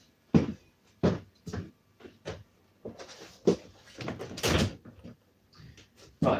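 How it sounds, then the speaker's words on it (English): A door in a flat being closed, a series of close knocks, clicks and thuds from handling it, spaced irregularly with brief quiet gaps. "I close the door so I can."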